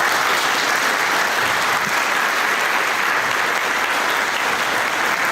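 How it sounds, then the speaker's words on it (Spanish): A conference audience gives a loud, dense round of applause. The clapping fills the whole stretch at an even level, with no break and no voice standing out. "un fuerte aplauso para el..."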